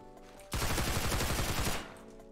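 Rapid automatic gunfire from a gun in the Roblox game Criminality, a loud sustained burst of closely spaced shots lasting about a second after a quiet moment, then cutting off.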